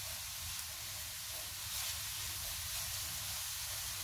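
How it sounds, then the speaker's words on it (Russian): Steady frying sizzle from carrots in a pan, a continuous soft hiss with no voices, fairly quiet and even throughout. "Пока наша морковь жарится, поглядываем, помешиваем."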